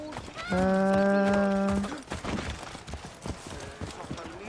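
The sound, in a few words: horse hooves clip-clop in Assassin's Creed video game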